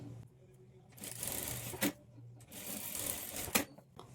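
Sewing machine laying a double stitch along a blouse shoulder seam, two sustained bursts of whirring stitching close by, with faint machine hum and brief pauses between.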